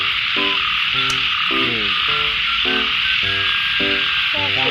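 Frogs croak in steady repeated pulses at night in the field, loud and close over a constant high insect drone.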